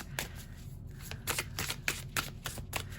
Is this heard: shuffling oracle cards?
yes